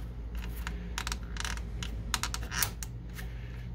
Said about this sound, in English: there's this latch right here that we just need to lift up and push the plastic piece down